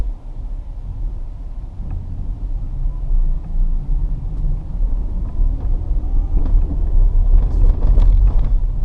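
A Tesla Model Y pulls away from a stop in heavy snow, its tires and chassis giving a steady low rumble that builds slightly, with faint crunching and clicks near the end.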